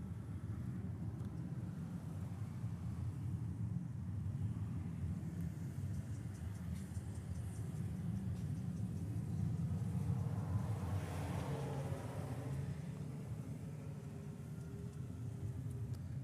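Airplanes turn overhead near Honolulu's airport, giving a faint, distant, continuous rumble that swells gently near the middle before easing off.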